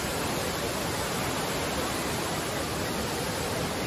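Tirathgarh waterfall roars as a constant, uniform wash of falling water, filling the whole moment without breaks or voices.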